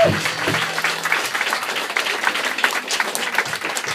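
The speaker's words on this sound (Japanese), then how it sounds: "大きな拍手をお送りください" An audience applauds at a live music and dance event, with steady, full crowd clapping throughout and a brief voice at the very start.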